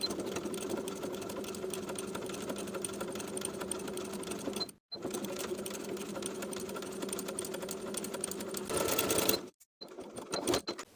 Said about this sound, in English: we're going to stitch in the ditch from the outside, making sure to catch that folded edge of the inner waistband as we go